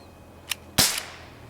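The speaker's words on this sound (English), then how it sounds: "It's pretty loud. It almost sounds like a real gun." A Glock air gun fires once with a sharp, loud crack, preceded by a small mechanical click, then a short fading tail.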